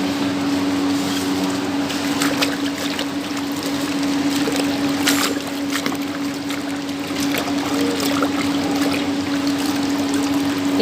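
Steady running water from a tap or pipe flows without a break while leaves are washed, close and fairly loud, with a constant hum underneath and faint splashes and handling noises.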